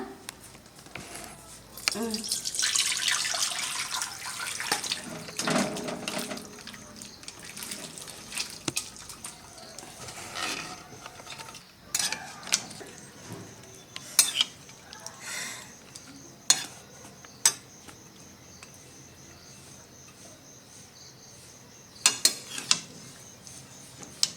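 Cooked duck meat curry, a thin winter-style broth, being poured and scraped from a pot into a dish, giving a wet sloshing and splashing rush followed by scattered clinks and scrapes of a utensil, close by.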